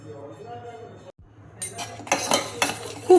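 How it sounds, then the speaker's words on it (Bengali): Metal utensil clinking and scraping against a pot while a milk mixture for kunafa is stirred, a few bright clinks building toward the end after a quiet start with faint room sound. "খুব ভালো করে দেখো নেড়ে যেতে হবে, নাহলে তলায় বসে যাবে"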